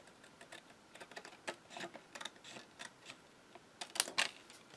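Paper being cut and trimmed with scissors for a notepad cover: a series of quiet, irregular snips and crisp clicks close by, with a couple of sharper cuts near the end, with no voices.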